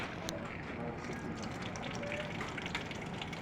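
Water trickles slowly through a clogged air conditioner drain pipe, a steady low gushing wash that runs without pause, with faint voices at the edges.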